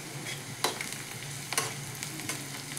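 Lightly crushed cashews are frying with onions in a pan. The result is a close, continuous sizzle broken by a few sharp scraping stirs of a spatula.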